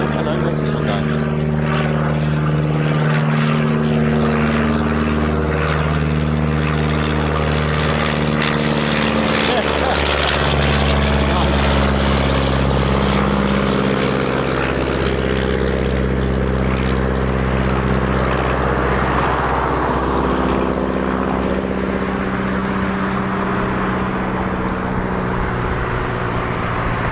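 A military aircraft flies past, its engine a loud, steady droning roar with strong low tones that swells and fades slightly over nearly half a minute.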